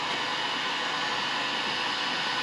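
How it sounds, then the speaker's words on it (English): A heat gun blows with a constant close whooshing roar while curing powder coat on pit bike parts, an unbroken steady airflow with no voices. "Let's use the heat gun."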